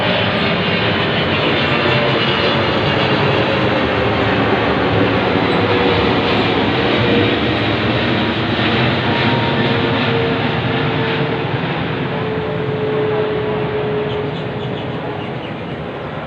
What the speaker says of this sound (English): Another patrolling plane in my line of sight